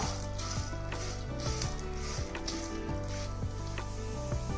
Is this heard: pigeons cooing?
no